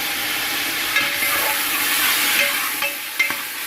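White cumin seeds frying and being stirred in a pot for street-style chana pulao biryani, a steady close sizzle with occasional scraping stir clatters.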